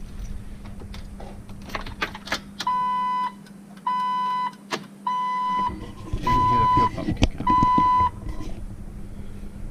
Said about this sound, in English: Plug the seatbelt in so it doesn't beep at me.